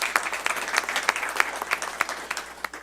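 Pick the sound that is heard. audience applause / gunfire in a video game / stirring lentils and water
audience applause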